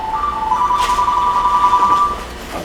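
A mobile phone rings during an interview in a quiet room, its electronic tone a sustained beeping melody of a few short repeated notes, moderately loud and alone.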